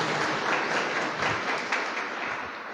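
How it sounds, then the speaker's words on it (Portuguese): A congregation applauds at Sunday Mass, with steady, dense clapping sustained at an even level from start to finish and no voices over it. "A nossa salva de palmas aos que aqui vieram, também aos cursilistas aqui presentes."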